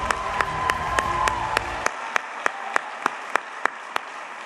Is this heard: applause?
yes